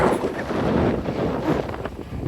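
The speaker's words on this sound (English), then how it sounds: "it's way too windy out here" Gusty wind buffets the microphone beside a 2025 Chevy 2500HD truck with a constant low roar and rumble, close and loud, with no voices.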